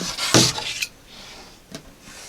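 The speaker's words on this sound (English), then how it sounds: "I'm just going to finish putting the rest of these bolts in" Metal bolts being fitted into showgirl costume shoulder pieces give a few close scraping rubs and a sharp knock early on, followed by quieter handling and one more brief rub.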